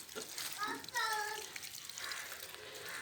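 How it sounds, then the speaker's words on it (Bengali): Water pours onto a dahlia plant, a soft splashing trickle heard alongside a nearby voice talking. "দেখুন আমি জল দিচ্ছি এখন গাছে। আমার প্রথম ডালিয়া গাছে জল দিচ্ছি"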